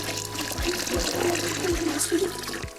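About one and a half litres of water is poured into a pot for homemade goat leg soup, a steady splashing trickle with a low hum beneath and a few dull knocks, heard without talking.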